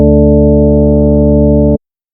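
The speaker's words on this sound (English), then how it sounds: "we're just getting that really soft sine wave sound" A soft, steady synth tone built from three layered pure sine waves in additive wavetable synthesis, like a mellow electric piano chord, sustained evenly for under two seconds before cutting off.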